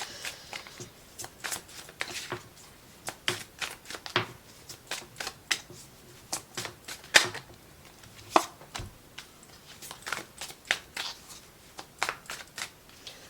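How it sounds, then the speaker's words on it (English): Tarot cards are pulled and shuffled by hand. Quiet, irregular papery flicks and taps come in clusters, heard close up with no talking. "let me just pull some more cards so I can go through these"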